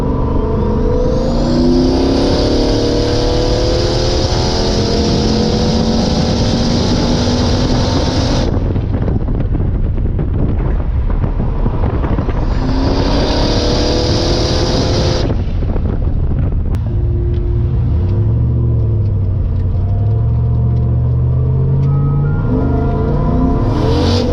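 A turbocharged LS-swapped Nissan 240SX with a 4L80E automatic roars at wide-open throttle, its engine note rising through the gears with loud turbo whine and heavy wind buffeting inside the car, with no talking.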